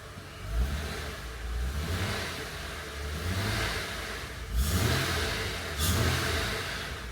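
A car engine with about 177k miles revs in a few swells as the throttle is blipped, each rise climbing and settling back to a smooth idle, fairly close and without talk.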